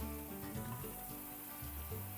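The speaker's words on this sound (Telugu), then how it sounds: "అన్నం ఉడికే లోపల ఇక్కడ సొరకాయ ముక్కలు కూడా మంచి ఫ్రై అవుతాయి" Bottle gourd pieces fry in a pan during biryani preparation, giving a steady, close, moderately loud sizzle that runs continuously with faint stirring and no talk.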